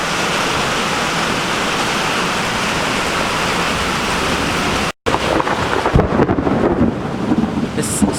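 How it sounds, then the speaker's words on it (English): Heavy rain pours steadily in a thunderstorm at a wildlife management area, a dense broadband roar with rumbling thunder; after a brief dropout the downpour returns with sharper crackling gusts. "This storm is crazy."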